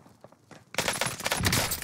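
Burst of PPSh submachine gun fire in the Warzone battle royale game, a dense rapid volley that starts abruptly after quiet footsteps and keeps hammering loudly, with faint shatter-like impacts mixed in.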